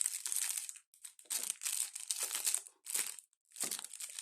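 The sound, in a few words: unwrapping a packaged advent calendar item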